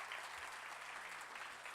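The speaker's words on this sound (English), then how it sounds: "let's start off with a quick round of applause for Senator Hayden" An audience at a climate leadership conference claps steadily for Senator Tom Hayden, a dense even wash of applause from many hands throughout.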